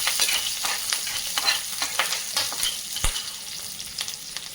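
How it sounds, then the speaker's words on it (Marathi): Green chilies frying in oil in a pan over a low gas flame, a steady close sizzle with scattered crackles and pops and one sharp clack of a utensil, no voices. "मिरच्या छान परतून घ्यायचा."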